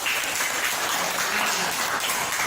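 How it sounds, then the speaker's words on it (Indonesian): A classroom group claps together after a lesson, a dense, even burst of applause lasting a couple of seconds at moderate loudness, with no distinct voices over it. "tepuk tangan"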